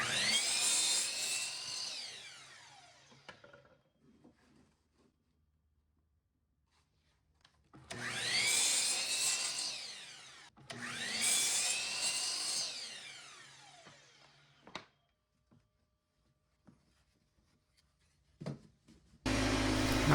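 A power saw makes three loud whining cuts through cedar fence pickets, each winding down as the blade slows, separated by quiet pauses, with a few faint knocks near the end.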